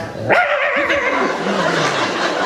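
A dog gives a short, sharp yelping bark up close, followed by a drawn-out whine over a noisy background.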